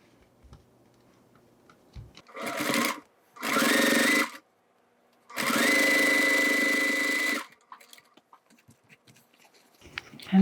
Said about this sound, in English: And then I'm going to top stitch.